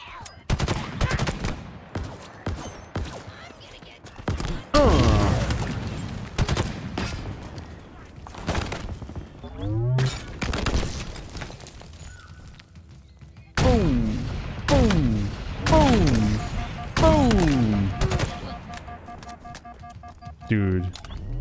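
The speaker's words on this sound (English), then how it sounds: "the gun sounds in this game. Oh man, love them. So beefy." Gunfire from the video game Halo Infinite booms in heavy bursts and rapid automatic volleys with loud thumping impacts, while someone talks over much of it.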